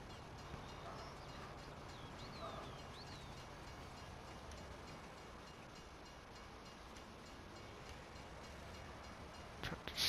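A train in Farming Simulator 19 on the Erlengrat map rumbles steadily at low volume, a continuous mechanical drone that holds the whole time and ends in a few sharper knocks.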